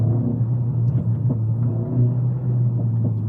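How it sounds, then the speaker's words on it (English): A Mercedes CLA45s AMG in second gear gives a low, steady exhaust rumble broken by several small irregular crackles and pops as it downshifts. "And you just get those lovely pops on the downshift"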